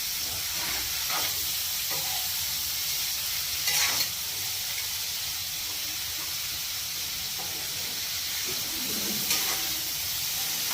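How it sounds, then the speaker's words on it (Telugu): Paneer pieces frying in butter give a steady, soft sizzle throughout, with a few brief louder crackles and stirring sounds; no talking. "ఈ బటర్లో ఈ పన్నీర్ ముక్కలన్నీ వేసుకొని బాగా ఫ్రై చేసుకోవాలి"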